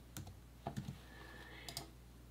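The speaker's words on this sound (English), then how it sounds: "I'm going to type in proud here just so you can see" Typing on a computer keyboard in a quiet room: a few scattered soft key clicks in small clusters, close and faint, with a pause between bursts and no talking.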